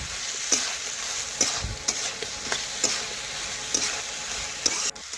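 Mixed vegetables and chopped tomato cooking in a pan, a steady low sizzle with spaced spatula scrapes and knocks against the pan, close and with no voices.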